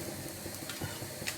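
Chapati cooking on a hot tawa while being pressed down, giving a steady close sizzle with faint crackles and a few soft scraping touches throughout, no voices.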